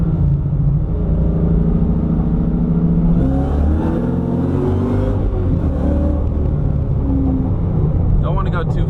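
A Ford Mustang with a T56 transmission accelerates, its loud, steady engine rumble underlying a rising gear whine that climbs in pitch through the middle, heard from inside the car.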